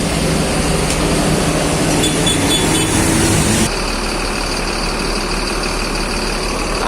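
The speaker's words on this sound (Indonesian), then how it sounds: "Jadi suara mesinnya gurih ya" A bus engine idling nearby, a loud, steady rumbling drone with continuous mechanical texture that shifts in tone partway through, then carries on evenly to the end with no voices.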